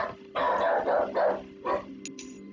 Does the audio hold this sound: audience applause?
no